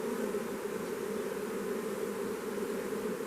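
Honey bees buzz in a dense, continuous, fairly loud drone during a hive inspection, close and steady throughout, with no speech.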